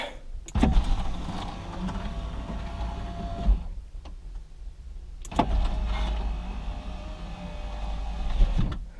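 A 2004 Porsche Boxster 986 power window motor whirs as the glass moves, pauses briefly, then runs again in the other direction, with clunks as it stops and no grinding.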